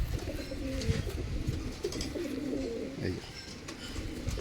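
Small female fancy domestic pigeons, including chotial, white-headed and fulsira types, coo steadily and close by. Their murmuring runs through the whole clip beneath a man's speech.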